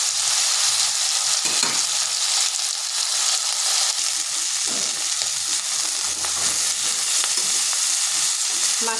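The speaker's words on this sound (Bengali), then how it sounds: "চিংড়ি মাছগুলো একটু ভেজে নিচ্ছি।" Prawns fry in hot oil in a kadai (wok) while being stirred, giving a steady, loud sizzle throughout with scraping and stirring knocks and no talking.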